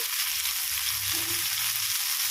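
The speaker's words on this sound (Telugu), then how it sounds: "రేకు మీద పెనం మీద కాలుస్తున్నాను చూడండి ఇలాగండి మీకు ఆయిల్ వేస్తున్నాము" Taro roots roasting with oil on a flat pan, producing a continuous soft frying hiss heard close up, with no talking.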